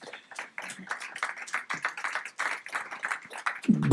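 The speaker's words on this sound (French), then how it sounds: "On peut les applaudir tous les deux." Scattered, fairly close claps from a small conference audience welcoming presenters onto a stage, irregular and sparse rather than a full ovation, ending in a louder thump.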